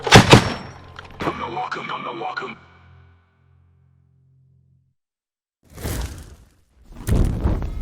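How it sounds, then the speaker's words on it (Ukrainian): A few loud, sharp gunshots burst out, separated by silence, with ringing echoes trailing after the first impacts; voices are mixed in. Military training setting. "Постріл! Постріл!"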